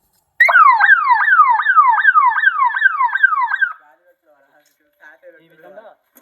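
A solar fence controller's siren wails loudly and close in a rapid repeating rising sweep for about three seconds, then cuts off, followed by a brief faint voice.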